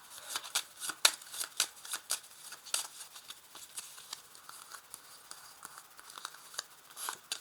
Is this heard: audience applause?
no